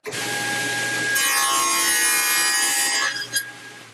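A saw making the first cut into a wooden workpiece for a castle joint. Steady, close, continuous rasping strokes run for about three seconds, with no voices.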